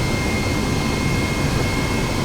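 An EC135 helicopter lifting off in a flight simulator game gives a steady, loud engine and rotor roar with a constant whine, unbroken throughout.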